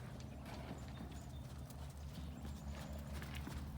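A horse's hooves clip-clop in a steady trotting rhythm during a riding lesson, close and continuous, with occasional faint clinks of tack and no talk over them.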